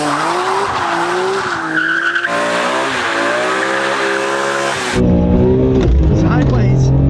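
A 160,000-mile, 300bhp BMW E46 M3 launches hard on a drag strip, its tyres skidding and squealing over a loud engine roar, with voices talking through the run.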